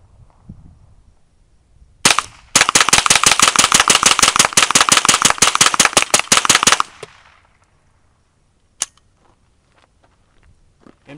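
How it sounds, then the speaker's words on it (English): A Spikes Tactical .22 kit rifle fires a rapid mag dump of about 25 rounds: a loud, fast, closely spaced string of sharp cracks lasting several seconds, then the shooting stops and only faint handling noise follows. "So I'll go ahead and charge up the gun and just do a quick little mag dump"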